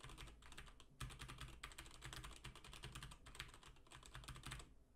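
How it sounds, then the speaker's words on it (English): Typing on a computer keyboard, heard close and alone as a rapid, continuous clatter of key presses with brief pauses, very quiet overall. "Here's me hitting some keys."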